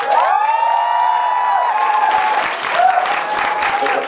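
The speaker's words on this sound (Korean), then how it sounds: "4년 동안 수고하셨다고 박수 한번 쳐드릴까요?" Audience applause at a rock concert, a loud burst of clapping mixed with scattered cheers and whoops from the crowd, sustained for a few seconds, with some voices audible over it.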